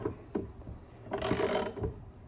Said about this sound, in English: a half-inch drive, because I want to just tighten this down until my arm breaks